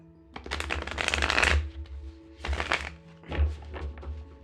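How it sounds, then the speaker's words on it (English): Three bursts of a card deck being riffle shuffled, each a crisp rapid flutter of cards ending in a soft thud, with short pauses between. "Let's see how it riffle shuffles."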